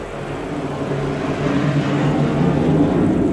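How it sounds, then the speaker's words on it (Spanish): Low, steady rumble of airplanes passing overhead, a broad droning roar that swells slightly over a few seconds and holds, with no voices. "Lo siento, los aviones."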